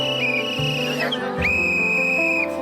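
Whistles blown by a patrol of women commandos carrying sticks and torches, two long shrill sustained blasts close by, separated by a short break, with no talk.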